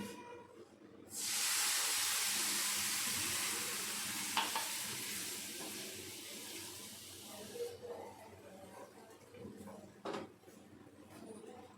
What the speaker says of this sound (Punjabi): ਆਪਾਂ ਉਦੋਂ ਤੱਕ ਹਿਲਾਉਂਦੇ ਰਹਿਣਾ ਜਦੋਂ ਇਹ ਨਾਰੀਅਲ ਦਾ ਬੁਰਾਦਾ ਦੁੱਧ ਨੂੰ ਚੰਗੀ ਤਰ੍ਹਾਂ ਸੋਖ ਨਾ ਲਏ